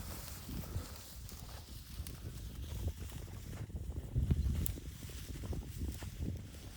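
Cows tearing and grazing on tall grass outdoors, heard as repeated soft ripping and crunching pulls at an irregular pace, close but faint over low rustling background noise.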